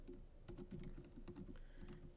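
Computer keyboard typing in quick, light bursts of keystrokes, close and quiet, with no voice over it.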